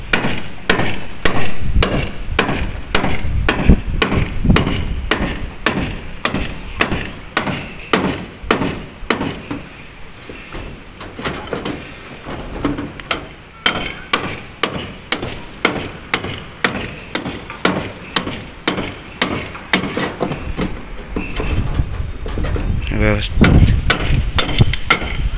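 Repeated hammer blows chipping holes into a concrete ceiling around a fan box for electric pipe, loud and close, in a steady fast rhythm with brief pauses, and someone speaking occasionally between strikes.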